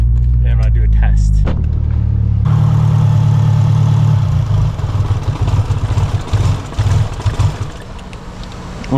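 Honda Civic Type R engine with a failing fuel pump running rough and breaking up, a loud, close, uneven chugging drone that stumbles and surges, with someone talking over it at the start.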